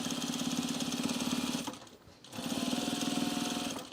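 A sewing machine stitches through a sewn rug in a fast, steady mechanical chatter, pausing briefly in the middle before resuming at the same close, even pace.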